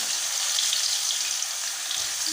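Chopped onions sizzle steadily in hot oil in a pan for an Assamese fish curry, a constant bright frying hiss heard close up and without any talk.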